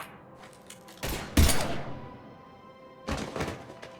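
Gunfire in the Mass Effect Legendary Edition video game: a loud, close burst of shots erupts, fades into a lingering rumble, then a second volley follows a couple of seconds later.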